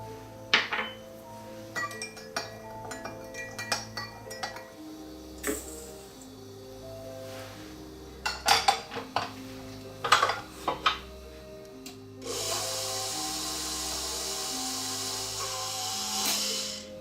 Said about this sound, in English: then creaming the fats and the sugar